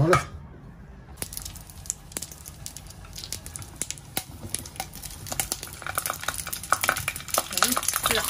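Stuffed green peppers filled with meat fry in a home pan, giving a steady crackling sizzle with scattered sharp pops that grows busier toward the end, close by, with people talking occasionally over it.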